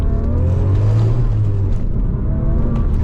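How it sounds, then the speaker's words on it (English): A 20-year-old Porsche 911 Turbo (996) with a flat-six engine of 444 horsepower is revved, a loud, steady, deep exhaust rumble close by with a slight rise in pitch, heard alone without talk. "Give it a little rev for you."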